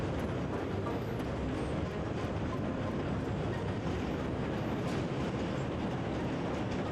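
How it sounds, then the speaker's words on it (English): Train in the game Crimson Spires starting to accelerate, a dense, constant rumbling roar of wheels and carriage noise with faint rhythmic clatter, loud and unbroken with no voices. "The train lurches a bit, then starts to accelerate."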